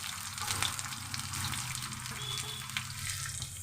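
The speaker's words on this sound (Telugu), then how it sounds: "ముందుగా కట్ చేసి పెట్టుకున్న ఉల్లిపాయ ముక్కలను అయితే వేసేస్తాను." Chopped onion pieces hit hot oil already spattering with mustard seeds, giving a steady close sizzle and crackle that runs unbroken for the whole span, with no voices over it.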